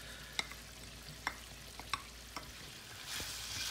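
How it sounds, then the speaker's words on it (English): Tomatoes and lamb chops are stirred in a karahi, giving sharp, separate spoon scrapes and taps against the pan over a faint sizzle. The frying swells louder near the end. "We're going to stir this for a further 3 or 4 minutes until the tomatoes are soft."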